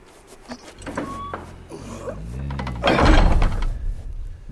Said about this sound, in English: Peter, High King of Narnia, shut the door